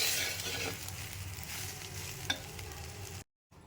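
Cooked rice is stirred into raw mango pulihora in a hot pan: close, continuous scraping and sizzling, with a sharp clack near the end before the sound cuts to silence.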